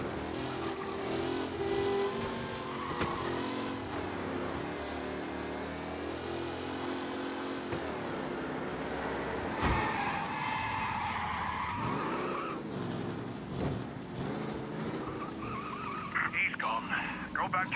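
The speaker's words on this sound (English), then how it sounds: "Be alert for a race car out on the roads tonight." A race car in the game Mafia revs and skids with squealing tires, a loud continuous engine roar under talking voices.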